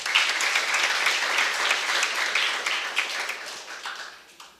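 Children applaud at a National Flag Day ceremony honoring organizations, a dense burst of many small hands clapping steadily for several seconds before gradually thinning and fading out.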